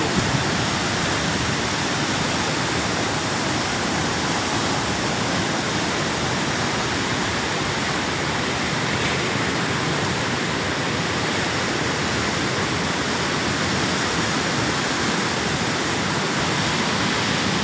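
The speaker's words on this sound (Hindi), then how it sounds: "भारत में पानी बहुत शदीद रफ्तार में यहाँ पे पानी चल रहा है।" Floodwater rushes at high speed down the Sutlej River after a dam release, a loud, steady broadband roar like a waterfall that continues unbroken without any talk.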